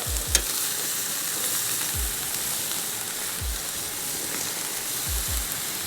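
Marinated alligator kebabs sizzling on a grill, a steady hiss with light crackle and a few brief knocks.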